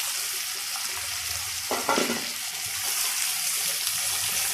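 Pabda fish frying in hot oil with cumin in a pan, with tomato added partway through, giving a steady sizzle and a short louder burst of spattering and stirring.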